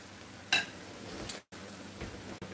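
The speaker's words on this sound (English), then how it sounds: "We're going to let these fry a minute" Salmon patties topped with onions frying in a pan, giving a steady soft sizzle with a brief sharp clatter near the start and a short gap partway through.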